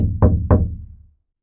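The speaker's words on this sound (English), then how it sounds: "On the 8th night, the knocks came again," Knocks on a front door ring out close and loud, with an earlier hit already decaying at the start and then two sharp, evenly spaced raps that ring briefly before the sound dies into silence.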